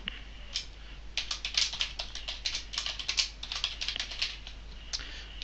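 Contact details are typed on a computer keyboard in a steady run of quick, close key clicks, with brief pauses at the start.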